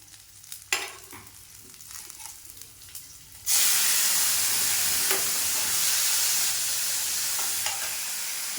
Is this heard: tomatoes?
yes